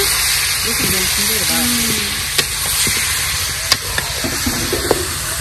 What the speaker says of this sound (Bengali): এদিকে শাক রান্না হচ্ছে